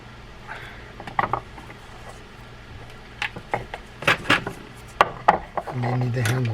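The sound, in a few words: removing screws from a Penn fishing reel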